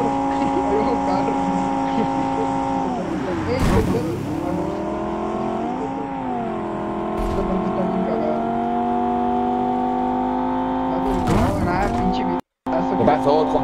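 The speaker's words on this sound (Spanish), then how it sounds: "ahí va un carro." A car driving past with a loud engine drone that swells and bends in pitch several times over many seconds, with some voices around it.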